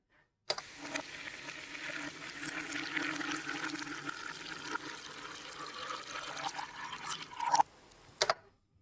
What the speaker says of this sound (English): I now drain the cup rather than pour Coke into it.